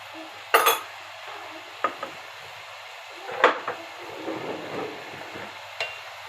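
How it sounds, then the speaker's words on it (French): A utensil stirs spices (salt, pepper, paprika, turmeric, garlic powder) into Cantonese fried rice with squid in a pan, giving a few sharp metallic scrapes and clinks with quiet gaps in between and no talking. "On touille. Tout mélanger toutes les épices et tout."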